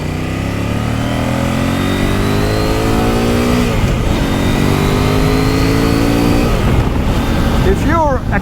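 A 2025 KOVE 800X Pro adventure motorcycle with a 95 horsepower engine pulls hard, its loud engine note rising steadily through the revs with harmonic whine, a shift-like dip midway, and a rider talking over it.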